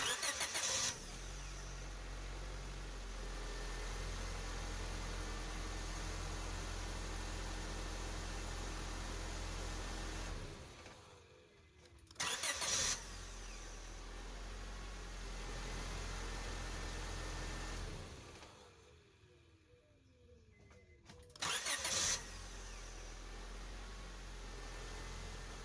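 A 2001-2005 Honda Civic engine starting after a starter replacement: repeated short cranks catch into a steady idle, which cuts off and restarts twice, heard up close with no talking.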